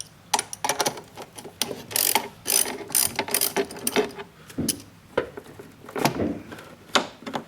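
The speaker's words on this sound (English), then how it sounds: "Use your 10mm socket wrench to remove the negative battery terminal." A 10mm socket wrench ratcheting on a Mazda's negative battery terminal, close, sharp bursts of rapid clicking in uneven spurts with brief pauses, no talk.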